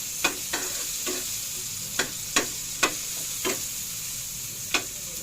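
Onion and tomato sauté in a hot pan, a steady sizzle broken by a string of sharp scraping stirs of the utensil against the pan, spaced irregularly.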